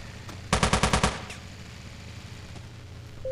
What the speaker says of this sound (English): this is the perfect level to break out the SMG.